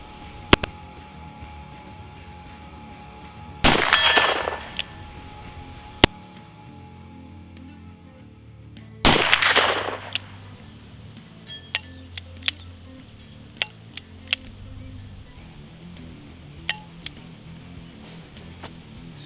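An S&W 686 revolver with aftermarket springs is fired single action outdoors: two loud, sharp shots about five seconds apart, each with a brief ringing decay, and faint mechanical clicks in between.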